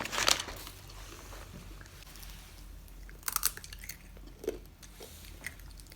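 A child crunches sweet potato chips in a few sharp, close bursts near the start and middle, with quieter chewing between and a low room hum underneath.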